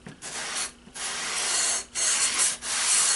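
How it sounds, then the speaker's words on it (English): A sanding block works the foam edge of a model aircraft elevon to a 45 degree bevel, giving close, loud hissing rubs in several long strokes separated by brief pauses, with no voices. "We're going to take a sanding block and finish it"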